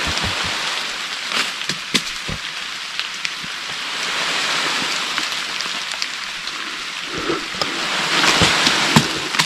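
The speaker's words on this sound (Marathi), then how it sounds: "पाऊस बघा" Steady rain hisses close by, with scattered drops tapping on a surface and a slight swell toward the end. No one speaks.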